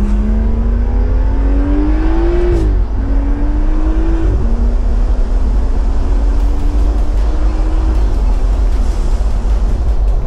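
A BMW engine drones steadily as the car drives and pulls up to a dealership, its pitch climbing through several gear changes, loud and close throughout with no talking.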